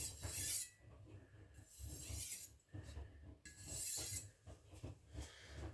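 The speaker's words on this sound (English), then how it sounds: "This is just burnishing and making the edge ever so fine." A knife edge being burnished during sharpening, a close, quiet series of rasping strokes in an uneven rhythm of about five passes, each a brief gritty scrape separated by short pauses.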